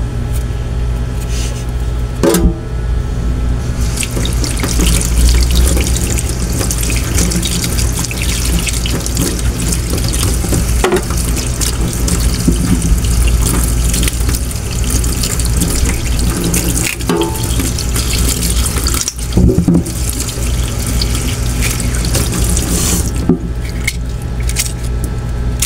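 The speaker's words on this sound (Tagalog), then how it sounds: "So, hugasan na lang po natin siya ulit bago po natin ilaga." Muddy cassava root being rinsed under a running tap, steady splashing water over a sink throughout, with occasional squishy handling and scrubbing, close and fairly loud, no talking.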